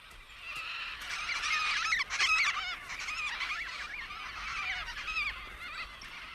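Major Mitchell's cockatoos screech in a continuous raucous chorus, harsh overlapping calls from several birds filling the whole stretch at moderate distance.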